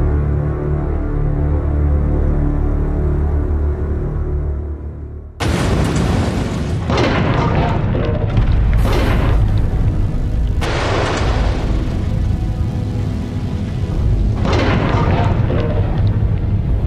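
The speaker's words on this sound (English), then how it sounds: "watch the explosion on a monitor" A test explosion set off for an air accident investigation into the Detroit Flight 253 incident: after a steady low hum, a sudden loud blast erupts, followed by several more sharp booming bursts and rumbling.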